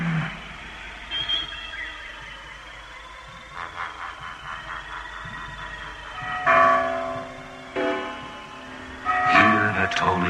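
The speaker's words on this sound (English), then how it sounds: "Hear the tolling of the bells, iron bells." Iron bells toll in several resonant strikes that ring out and decay over a low droning background, with a thin sustained tone running underneath.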